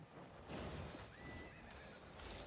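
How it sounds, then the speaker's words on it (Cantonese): A horse neighs in the online fantasy MMO game Albion Online during a large team battle, its whinny rising briefly against a dense, loud backdrop of combat noise and game effects. "我聽到拉馬聲啊，可能要兜佢哋。"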